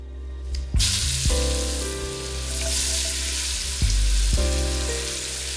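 Onions dropped into hot oil in a pan for a vegan chickpea and potato curry, sizzling loudly at the start of the clip and again partway through, then frying steadily on their own without any talking.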